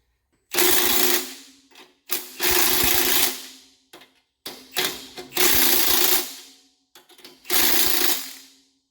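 A power tool tightens leaf spring bolts on a trailer in four loud bursts of whirring and rattling, each lasting about a second, separated by brief silent pauses.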